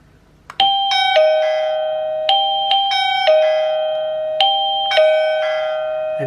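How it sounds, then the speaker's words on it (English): Chime unit paired with a DN vision V5 video doorbell rings several times in a clear, loud sequence of bright two-tone ding-dong strikes, each ringing out and decaying before the next, with no talking. "that's your chime is connected to your doorbell"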